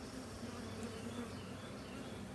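A steady swarm of honeybees hums around a honeycomb bar pulled from the hive for harvest, a thick continuous buzz close by with faint passing whines over it.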